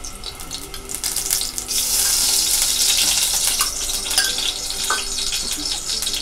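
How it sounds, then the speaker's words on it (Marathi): Oil hits a hot kadhai before chicken goes in, breaking into a loud, steady sizzle that swells after a quieter start and carries on crackling close by with no talk. "तर इथे आपण तेल घालूया"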